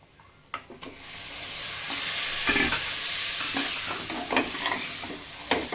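Chicken sizzles and fries steadily in a pan, with a few scraping stirs and clatters near the start, close and moderately loud, no voices.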